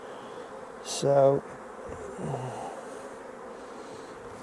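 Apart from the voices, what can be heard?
honeybees at an opened hive during inspection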